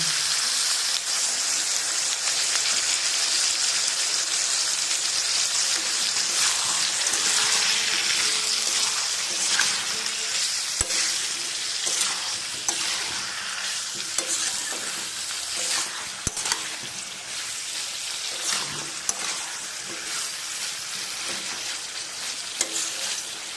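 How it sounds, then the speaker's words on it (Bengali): Pumpkin curry sizzles steadily in a pan with a little water, the frying hiss continuous throughout while a spoon scrapes and stirs in irregular knocks; no voices. "আবার আমি সামান্য জল দিয়ে এটা কষিয়ে নেব।"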